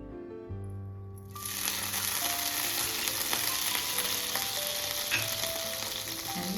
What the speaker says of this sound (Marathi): आपण थोडं पाणी शिंपडूया.